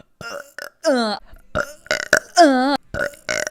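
Several short, close burps in quick succession, loud and croaky with gaps of quiet between them.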